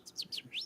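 A person imitating bird chirps with their mouth, producing a quick run of four high, sweeping tweets that sound much like a real small bird, faint and close.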